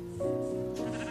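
A sheep in Minecraft gives a short, wavering bleat, fairly close and clear, set against a steady soft game ambience.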